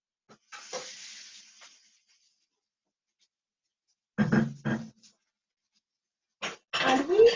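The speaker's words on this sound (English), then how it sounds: "I hope you can hear that searing. Are you hearing the sizzling?" Fish searing in a hot pan, a hiss when it first hits the metal that fades, then more short bursts of sizzling, close up with quiet gaps between.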